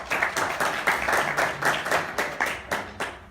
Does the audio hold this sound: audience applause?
yes